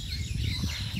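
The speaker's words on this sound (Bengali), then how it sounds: "বাবুই পাখির কিচিরমিচির তো আপনারা শুনতেই পাচ্ছেন।" Baya weaver birds chirping in a kadam tree outdoors, a quick, busy chatter of high twitters over a low background rumble.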